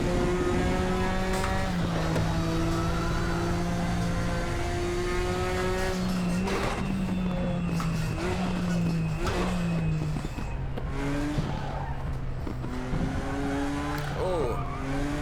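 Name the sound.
race car tires scrubbing while understeering, Raceroom racing video game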